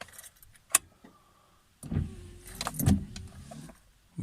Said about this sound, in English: To turn ignition on